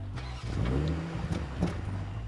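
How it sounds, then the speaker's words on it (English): A 2019 BMW X7 40i with a twin-scroll turbocharged 3-liter inline six and all-wheel drive, heard as a smooth, muted engine hum from inside the car while driving, with a slight rise in pitch as it pulls. "twin-scroll turbocharged 3-liter inline 6-cylinder that pumps out 335 horsepower"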